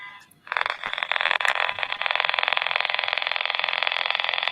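A magnet-driven reed switch oscillator heard through a radio makes a loud, steady buzzing drone that switches on abruptly and runs on like an idling engine, with fine rapid pulsing throughout.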